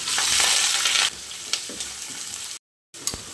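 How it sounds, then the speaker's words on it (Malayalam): Sliced onion, slit green chillies, curry leaves and whole spices frying in hot oil in a pan, a loud bright sizzle that drops after a second, with light stirring scrapes and a brief cut near the end. "ഒരു സവാള മുറിച്ചത് രണ്ട് പച്ചമുളക് നടുവേ കീറിയത് കുറച്ച് കറിവേപ്പില ഇവ ചേർത്ത് കൊടുക്കാം"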